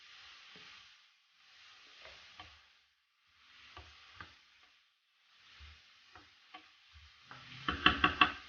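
Carrots frying in a pan for fried rice hiss in steady bursts while a utensil stirs them, with soft scraping knocks against the pan and louder, busier clattering at the end.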